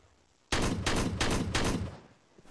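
Gunshots ring out in the shooter video game Forward Assault: several loud, closely spaced bursts of rifle fire in quick succession, up close, with no talking over them.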